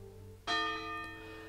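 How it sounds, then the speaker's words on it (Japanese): Closing-time bell at an amusement park in the Nintendo Switch game Genso Manege rings out with one sudden loud strike, then rings on in a long, slowly fading resonance over a low, steady hum. "遊園地の閉園時刻を知らせる鐘の音が鳴り響いた"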